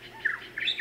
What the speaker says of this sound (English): Oh, there's a birdie.